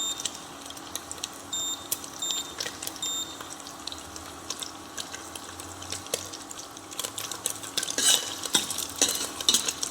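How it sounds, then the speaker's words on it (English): A spoon stirs brown sauce with mutton fat in a pan, giving soft repeated scraping and faint sizzling at low volume, with clinks growing busier near the end. "Keep stirring so it will not stick at the bottom and burn, and all the sides will evenly cook."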